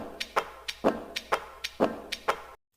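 Basketball swish samples arranged into a brush-kit drum groove drenched in reverb, a steady pattern of about a dozen soft, breathy hits with stronger accents on alternate beats, ending abruptly.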